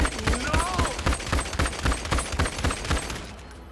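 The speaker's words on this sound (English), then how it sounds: "did you hear the gunshots?" Rapid bursts of gunfire in the video game GTA 5 crack in a quick, fairly regular series, loud and close, with a brief voice-like sound early on.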